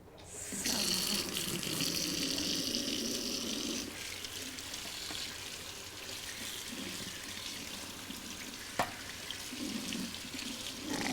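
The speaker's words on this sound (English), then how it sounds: "I'm just going to run the bottom of the pan underneath some hot water." Water runs from a tap, splashing and hissing as it pours over a pan, with the flow shifting and clattering faintly throughout.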